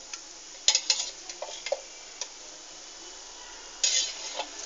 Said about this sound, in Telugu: పచ్చిమిర్చీలను కొంచెం ఆయిల్ వేసి